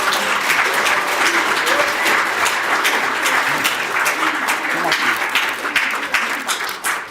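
A crowd at an awards ceremony claps loudly and steadily for about seven seconds, with dense hand claps that taper slightly at the end.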